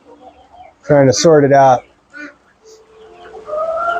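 Roosters and chickens in a backyard coop, a loud close crowing call followed by softer clucks and coos, with a person talking quietly around them.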